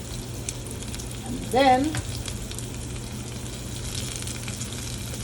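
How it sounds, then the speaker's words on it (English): Ginger sautés in a pan for a home-cooked curry, a soft, steady sizzle under a woman's brief speech, with a clattering stir around the second mark. "I'm gonna put a little ginger in there. We're gonna saute that."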